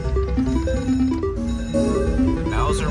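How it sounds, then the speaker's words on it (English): Electronic bells and chiming tones ring out in a busy, overlapping jangle, like slot machines paying out on a casino floor, steady and fairly loud throughout. "Bells are ringing right here for sure."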